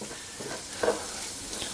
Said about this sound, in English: frozen peas, same thing, straight from frozen right to the frying pan